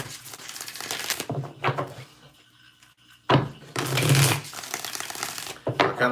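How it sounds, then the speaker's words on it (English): A deck of tarot cards is shuffled close by in two riffling bursts, each about a second long, with quieter card handling between them and no speech. "3 more shuffles."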